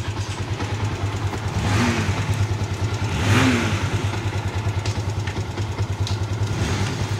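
A Yamaha Exciter 150 motorcycle fitted with a programmable RedLeo ECU idles nearby, a steady low throbbing putter with slight rises in revs around the middle and a faint rhythmic pulsing.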